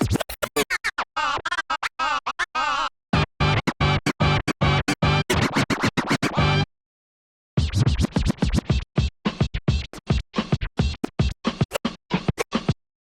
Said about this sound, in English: he added a stab sound and the vocal sounds to scratch apart as part of his